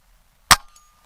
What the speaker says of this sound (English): I'm gonna take a shot. I'll shoot some steel.